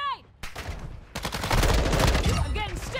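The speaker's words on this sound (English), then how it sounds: "Unsuppressed right now, though, so I'm broadcasting our position every time I shoot." Unsuppressed gunfire in the video game Call of Duty DMZ on Ashika Island, rapid close bursts of shots filling most of the moment, loud and dense with brief in-game tones at the start and end.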